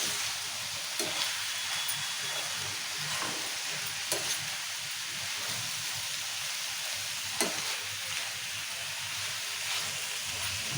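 Chopped tomatoes and fenugreek leaves fry in a pan with a steady soft sizzle and hiss, broken by a few light clinks of stirring, with no voices.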